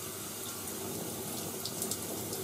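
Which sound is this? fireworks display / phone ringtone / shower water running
shower water running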